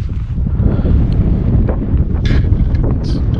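Steady, loud wind roars against the microphone outdoors at sunset at the Trona Pinnacles, a continuous low rumble with faint gusty flutters and no talking.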